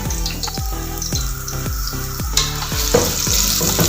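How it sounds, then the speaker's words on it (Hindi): Onions sautéing in oil in a pot over a medium flame for saag, a loud continuous sizzle with a regular series of knocks and scrapes as the onions are stirred. "प्याज को सौते कर लेंगे।"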